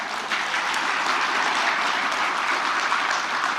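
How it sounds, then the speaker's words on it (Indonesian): Sustained applause from an audience at a book launch, steady and dense clapping throughout with no talk over it. "tepuk tangan aja kan kelihatan tuh nggak meriah"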